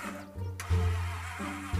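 A car engine with a suspected fault being started, cranking briefly and then catching into a steady, loud running drone with a couple of surges, and no voices.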